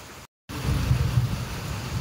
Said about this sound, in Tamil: பாருங்க மழைலாம் எவ்வளோ மழை பயங்கரமாக பெய்யுது பாருங்க.